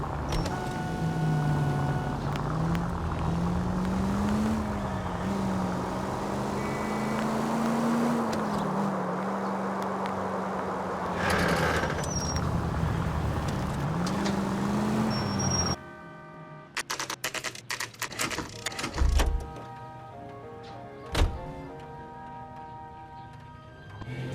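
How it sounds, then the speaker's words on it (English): A car in the video game L.A. Noire pulls out of a drive, its engine droning steadily with wavering pitch before cutting off into clicks, thumps and brief game noises. "That's the car, Cole. Just pulling out of the drive."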